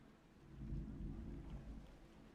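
A thunderstorm rumbles outside, low thunder rolling and swelling with rain in the background, muffled and fairly faint as if heard from indoors.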